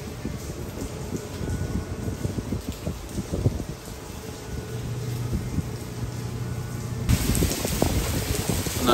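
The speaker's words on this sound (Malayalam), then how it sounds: "നല്ല രീതിയിൽ മഴയുണ്ട്" Steady rain falls on the deck of a 10,000 TEU container ship, a dense continuous patter with a low hum underneath that swells louder near the end.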